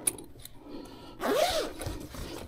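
A zipper drawn closed on a storage bag for a car back seat extender, one quick rising rasp lasting under half a second, close and clear against a quiet room.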